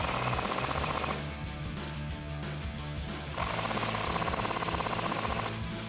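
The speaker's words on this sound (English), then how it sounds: "So we'll use our 15mm socket to tighten those up." A power tool runs continuously while a 15mm socket tightens strut nuts on a Mustang, making a steady, loud mechanical whir with slight changes in pitch and no pauses.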